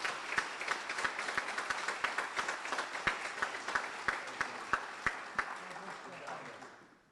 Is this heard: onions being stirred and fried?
no